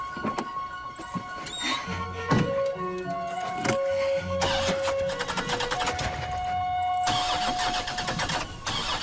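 A car engine cranks and starts inside a busy scene, with tonal music-like lines and other sounds layered throughout at moderate loudness.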